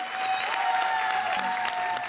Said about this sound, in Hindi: जोरदार तालियां शाने शकील के लिए